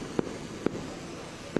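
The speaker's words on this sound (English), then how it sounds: "Of course, that's fireworks." Fireworks bursting during a drone show, three sharp isolated booms spaced unevenly over a steady background hum, moderately distant and fairly loud against the ambience.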